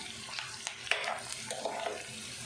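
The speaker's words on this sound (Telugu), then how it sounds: "మధ్య మధ్యలో కలుపుకుంటూ ఆనియన్, పచ్చిమిర్చిని బాగా ఫ్రై చేసుకోవాలి." Chopped onion and green chili fry in a pan for a gongura curry, a soft steady sizzle with light stirring scrapes and a few small clinks, close and quiet, with no talking.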